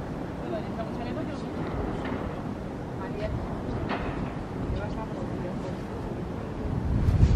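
Wind gusting hard against the microphone at a high viewpoint over Copenhagen, a steady rushing roar that swells near the end, with faint muffled sounds beneath.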